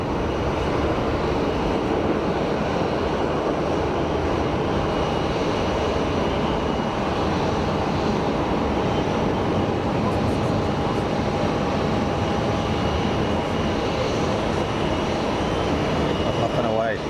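An easyJet airliner takes off at Geneva Airport and climbs away, a loud, steady broadband jet roar with a faint tonal whine, sustained throughout and staying close and dominant.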